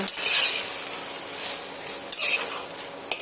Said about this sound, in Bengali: এবার আমি আরও কিছুক্ষণের জন্য এইভাবে কষিয়ে নেব